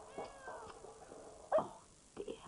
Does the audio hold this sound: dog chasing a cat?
yes